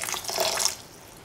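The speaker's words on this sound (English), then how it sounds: "Pour in 150 ml of water." Water pours into a stew pot of red spinach, lentils and coconut milk, a short soft splashing burst that fades out within about a second.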